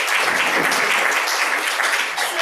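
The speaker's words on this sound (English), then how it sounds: "So applause." After a panel discussion on early warnings and early action, the audience gives a brief, full round of applause, dense and even clapping that fills the room without speech.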